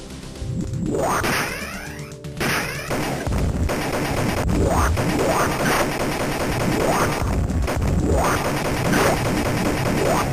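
Live-round gunfire in the Midway Judge Dredd arcade game, with rapid repeated shots, whacks and crashes over sweeping electronic effects, loud and continuous for about ten seconds.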